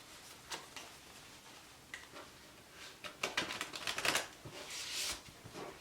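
A deck of 30 Ringmaster game cards is shuffled by hand, with soft scattered taps building into denser riffling bursts near the end, close and fairly quiet.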